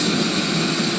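A waste oil furnace built from an old dirt-filled oil drum roars steadily while melting aluminum doors, a loud continuous close-up rush with no breaks.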